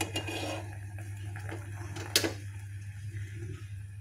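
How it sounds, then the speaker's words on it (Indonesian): Cooked custard sauce for chocolate pudding being scooped from a pot in a home kitchen, with soft scraping and light metallic clinks of a spoon against the pan, one sharp clank near the middle, over a steady low hum. "Kita salin flanya."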